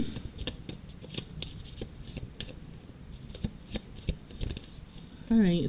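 Tarot cards shuffled briskly by hand, close and crisp, with a rapid run of riffling slaps and snaps. A voice briefly starts speaking at the very end.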